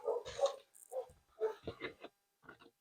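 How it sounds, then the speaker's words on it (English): Dogs barking upstairs in a house, heard as a run of muffled, fairly faint barks and yips at irregular intervals. "Oh, the dogs are going bonkers upstairs"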